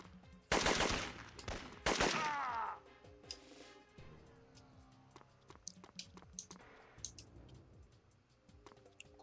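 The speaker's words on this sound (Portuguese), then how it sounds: "Tá atirando igual maluco aí" Rapid bursts of gunfire in the PlayStation game Syphon Filter, two loud rattling volleys up front followed by scattered quieter shots and clicks.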